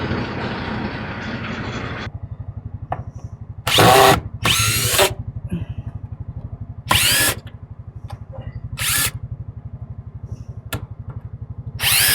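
A power drill driving screws while a sliding door is installed at an off-grid cabin in the woods, giving several short, loud, high whirring bursts over a steady low engine idle nearby.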